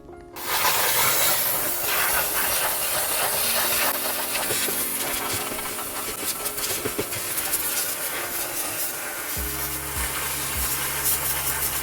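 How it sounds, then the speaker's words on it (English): A steam cleaner hisses loudly and continuously as it cleans the inside of an oven, with a rough spraying texture, scattered clicks and a low hum entering near the end. "So steam is the way to go, especially if you want to get the roof of your oven clean."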